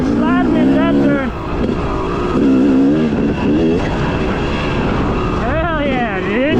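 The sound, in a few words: car sliding through a turn at a race track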